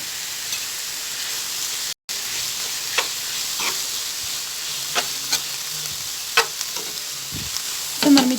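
Chicken pieces sizzle steadily in a hot pan while being stirred, with broadband frying hiss, scattered spatula scrapes and clicks, and a brief dropout near the start; no talk.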